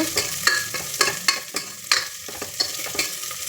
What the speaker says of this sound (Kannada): ಜೀರಿಗೆ ಚೆನ್ನಾಗಿ ಎಣ್ಣೆಯಲ್ಲಿ ಫ್ರೈ ಮಾಡ್ಕೊಳ್ಳೋಣ